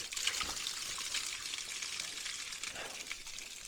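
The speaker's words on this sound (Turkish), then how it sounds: "Bakın burada dağdan gelen su." Mountain spring water in a Hizan village in Bitlis runs in a steady, close, hissing trickle while hands are washed under it, with faint splashes and no talking.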